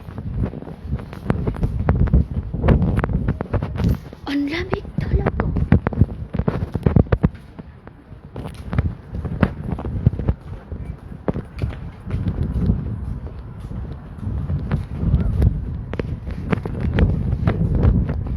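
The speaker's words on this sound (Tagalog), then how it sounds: "Hangin ngayon. Mahangin na kasi." Heavy wind buffets the microphone at Geelong beach, Victoria, Australia, in gusty, rumbling bursts throughout, with a person speaking briefly beneath the noise.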